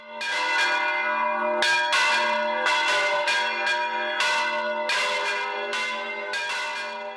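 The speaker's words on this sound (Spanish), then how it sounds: "Las campanas de Pelaustán, en la provincia de Toledo, han sido restauradas y suenan en todo su esplendor" Restored church bells of Pelaustán, in the province of Toledo, ring out loud and close, with about six strong clangs at a steady pace, each leaving a bright, lingering ring.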